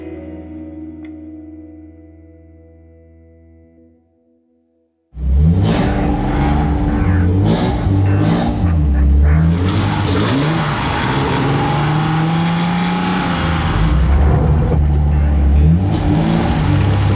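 An Alfa Romeo GTV6 engine idles with a low, smooth hum, goes briefly quiet, then bursts into loud, sustained revving, its pitch climbing and falling in repeated strong pulls close by.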